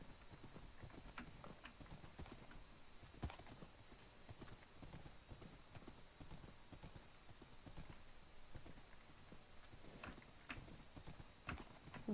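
Horse hooves galloping in a video game, a steady rapid clip-clop that runs without a break over a noisy game background, with occasional sharper clicks mixed in.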